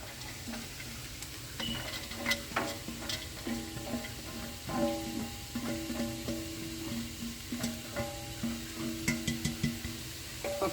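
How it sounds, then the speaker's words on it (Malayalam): Chopped green beans tipped into a pan of frying coconut masala for a Kerala beans thoran, then stirred with a spoon: soft sizzling under repeated tapping and scraping clicks against the pan, close and steady. "ഇനി നമുക്ക് ഇതിലോട്ട് അരിഞ്ഞു വെച്ചിരിക്കുന്ന ബീൻസ് ചേർത്ത് കൊടുക്കുക"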